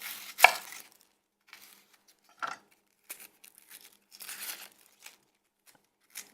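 A knife chops an onion on a board in sparse, separate cuts, one sharp crisp strike early and several softer chops and rustles afterward, close and with quiet gaps between.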